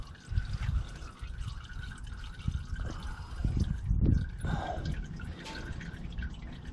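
Transmission fluid dripping and trickling from a 2014 Toyota 4Runner's sealed transmission into a drain pan during a drain and fill; close, irregular drips and splashes with a few louder bursts, no talking.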